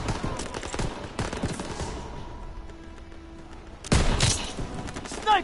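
Video-game gunfire fills the scene, with rapid bursts of sniper shots and heavy volleys in two clusters, then a loud burst near the end, with faint speech in the background.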